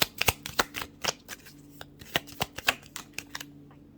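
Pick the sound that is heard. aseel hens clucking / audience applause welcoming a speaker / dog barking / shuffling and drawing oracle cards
shuffling and drawing oracle cards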